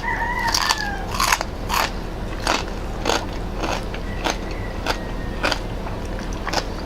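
Crisp, crunchy bites into crispy bagnet pork at a mukbang, a series of sharp crackling crunches repeating every half second or so, close and fairly quiet, with no talking.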